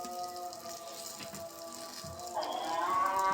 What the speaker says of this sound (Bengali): নিয়ে দেখেন ভাজি করছি